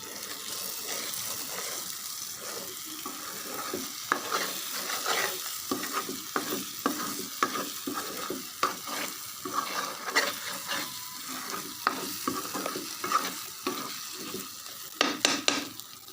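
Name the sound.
tomatoes frying and stirred in oil for fish gravy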